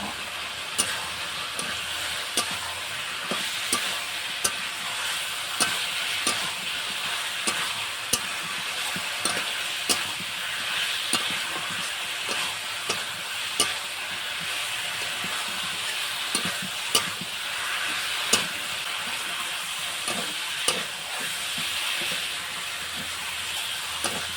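Fried jackfruit and potato sauté in a spice masala with a continuous sizzling hiss and regular sharp scrapes and taps of a spatula against the pan, steady and close, with no voices.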